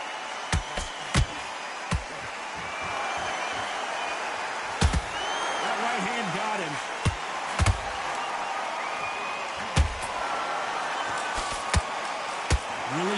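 Arena crowd murmur in the boxing video game Undisputed, a steady broad buzz under the action, punctuated by sharp thuds and slaps of punches landing at irregular intervals.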